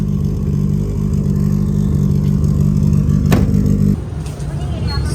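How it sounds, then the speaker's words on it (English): A Nissan S15 with an SR20DET engine idles steadily after a cold start, a close, low droning hum with a sharp click midway before the tone drops and settles lower. "S15's cold start"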